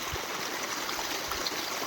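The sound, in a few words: irrigation water flowing through PVC pipes into field beds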